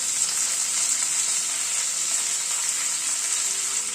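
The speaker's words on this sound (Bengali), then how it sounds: "ফুলকপিটাও একটু ভেজে নেব।" Cauliflower florets, first soaked in salted hot water, fry in a hot pan with a steady, close, loud sizzle that holds evenly throughout, with faint stirring and no voices.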